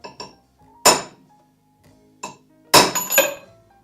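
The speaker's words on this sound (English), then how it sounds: "you use a hammer and a punch" A hammer strikes a center punch on metal to mark a spot for drilling, giving a few sharp, separate metallic taps spaced out in the quiet.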